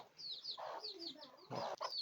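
A hen clucks low and close while chicks cheep in high, repeated peeps around her, quiet and distinct.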